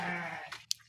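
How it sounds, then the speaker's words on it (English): Young lambs bleating on a goat and sheep farm, a drawn-out wavering cry close by followed by a couple of short sharper calls. "So that's why they are crying. Those are the sheep, the young lambs."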